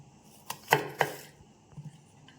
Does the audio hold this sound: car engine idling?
no